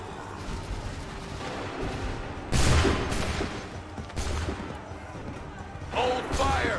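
Gunfire in Assassin's Creed 3, a few loud booming musket volleys over battle noise, with shouted voices in between.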